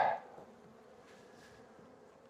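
Faint, low buzzing of honeybees in a winter hive, a steady hum with a brief louder burst at the very start, heard close and alone.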